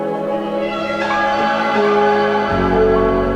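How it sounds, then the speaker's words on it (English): An ambient glide texture sample from the Mirage sample kit: sustained, shimmering tonal layers whose pitches slide and shift, swelling gradually before a deep bass tone enters loudly near the end. "I have this beautiful, beautiful glide texture"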